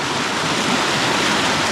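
Creek water rushing over rocks in an ancient forest at the Fairy Pools, a dense, continuous broadband roar close to the microphone with no voices.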